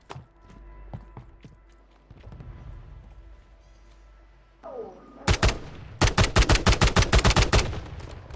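Gunfire in the Call of Duty video game, a few distant single shots followed by a loud rapid automatic burst of about a dozen rounds near the end, with players talking over it.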